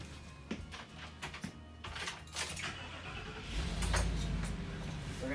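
The engine of a 2022 Thor ACE 32.3 motorhome cranks and catches, moving from clicks and rattles into a deepening low rumble that swells toward the end, recorded nearby.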